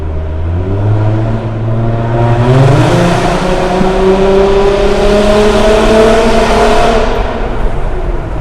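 A 2012 Hyundai Genesis Coupé with a 3.8-litre V6 pulls hard through the gears, engine rising in pitch, shifting up around the third second, then climbing again, loud and close with no talk.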